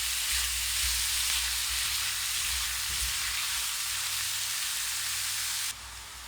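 Pork mince frying in a pan, a steady broadband sizzle that holds loud and constant throughout, with faint stirring scrapes underneath and no talking.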